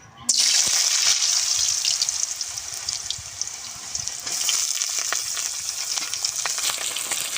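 Potatoes drop into hot mustard oil in a heated wok and burst into a loud, steady sizzle that holds close and bright, with a brief dip midway before the frying surges again.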